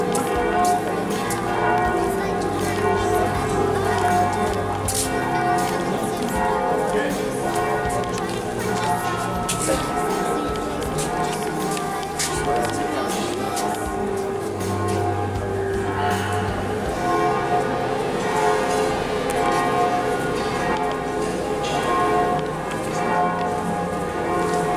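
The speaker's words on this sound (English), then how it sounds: "they're ringing the bells because it's 4:30" Church bells in a French town at 4:30, a busy ringing with many overlapping strikes throughout, set against outdoor background noise and occasional voices nearby.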